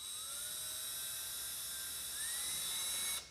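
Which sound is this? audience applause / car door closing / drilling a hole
drilling a hole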